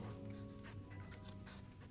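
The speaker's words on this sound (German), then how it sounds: "Torga ist genügsam, ist ein guter Hund" Torgal, the dog companion in Final Fantasy XVI, pants quietly in short rhythmic breaths beneath a steady, sustained bed of game music.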